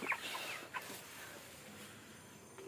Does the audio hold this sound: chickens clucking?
yes